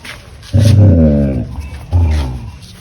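A mother dog gives two loud, close growling grumbles while her puppy pesters her for her ball, each drawn-out and throaty with a short pause between, no speech.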